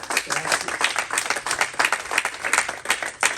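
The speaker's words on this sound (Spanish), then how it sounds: "Damos un aplauso al Señor" A church congregation claps rhythmically and briskly, sharp close claps in a quick uneven pattern with some voices mixed underneath.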